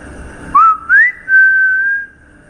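A person whistles a few short rising notes, then holds one long steady whistled tone, clear and close against quiet background.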